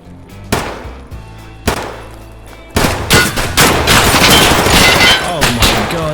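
Gunfire in Escape from Tarkov, a few sharp single shots followed by a loud sustained burst of rapid fire, close and harsh.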